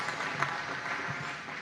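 Applause from a spray forum audience, a soft, diffuse patter of clapping at moderate distance, fairly faint and continuous through the short clip with no talk standing out.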